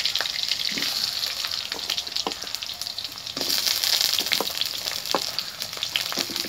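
Potato and pumpkin pieces frying in oil for a Bengali pui shak chorchori, a steady loud sizzle with scattered crackles and pops, close and continuous, no voices.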